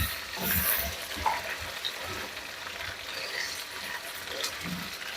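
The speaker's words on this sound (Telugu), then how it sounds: "ఇది వేగుతుందండి, ఒక్క 10 నిమిషాలు వేగాలండి." Chicken wings fry in a pan with a steady, moderately loud sizzle and crackle, plus a few soft stirring knocks.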